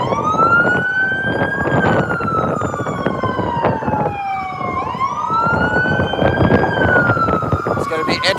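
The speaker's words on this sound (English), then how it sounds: "it seems like it's an ambulance emergency." Ambulance siren wailing in rising and falling sweeps on a city street during Boston riots, loud and close over traffic rumble, with voices talking underneath.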